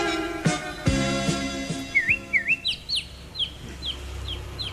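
A chicken clucks and squawks close by in a quick series of rising calls, with a couple of sharp strikes beforehand and no talk.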